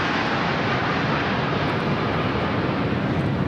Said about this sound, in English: Listening to those jet engines all in unison as they went across